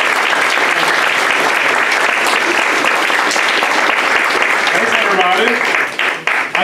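An audience at a Green Heart Louisville tree event in Lexington claps steadily and loudly, the applause sustained throughout and tapering at the end.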